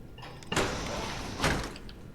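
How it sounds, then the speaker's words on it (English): Doors slide open in a game setting with two soft whooshing surges about a second apart, the second slightly louder, over a quiet hum. "I'll get the doors open."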